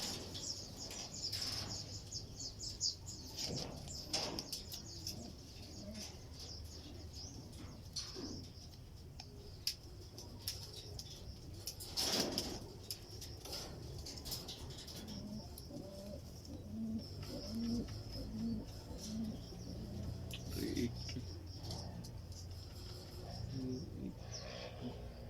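Racing pigeons coo softly in a loft at a derby race, with repeated low cooing calls and a few chirps over steady background noise, and faint voices now and then.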